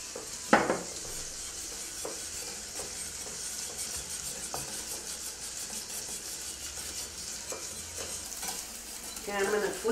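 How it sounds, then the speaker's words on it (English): Quick scraping and clinking of a whisk against a bowl, with light sizzling in the background and a few sharper knocks now and then. "then we need some whisking"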